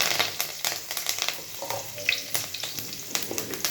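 Cloves, cinnamon, cardamom, mustard seeds and curry leaves crackling in hot oil in a pan, a steady close sizzle with sharp pops and spits scattered throughout.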